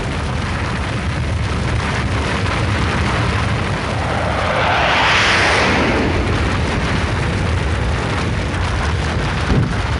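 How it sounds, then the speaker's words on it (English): Rocket liftoff at Kennedy Space Center in Florida, a loud continuous roar of main engines that swells toward the middle and rumbles on without pause, with no talk. "This is a launch at the Kennedy Space Center in Florida."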